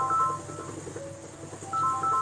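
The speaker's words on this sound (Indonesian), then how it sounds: "ada telepon ya." A phone rings briefly in two short bursts of electronic ringtone, with a gap of quiet room tone between them.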